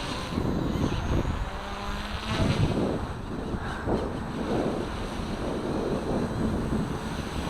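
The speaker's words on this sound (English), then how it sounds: "A bit more wind this time as well." Wind gusts buffet the microphone outdoors in a steady broadband rush, with a faint whine from a small K130 model helicopter underneath and no talk.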